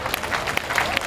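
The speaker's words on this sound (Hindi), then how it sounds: "एक बार दोनों हाथ आकाश में खोलिए, वाह, और तालियों में तब्दील कर दीजिए।" Brief burst of clapping from an audience at a Hindi poetry gathering (kavi sammelan), scattered individual claps rising over a crowd murmur for about a second.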